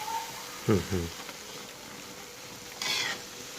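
An omelette fries in oil over low heat with a faint, steady sizzle. A brief spoken voice comes in early and a short louder hiss of frying follows near the end.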